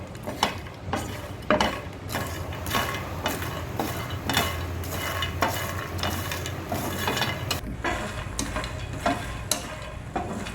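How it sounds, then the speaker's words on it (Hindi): Fox nuts (makhana) being roasted in ghee in a pan over medium heat, a continuous soft sizzle with repeated scraping and rattling as the puffed seeds are stirred, close and steady with no talking. "घी डालने के बाद में अब सबसे पहले हम ये मखाना को भून लेते हैं।"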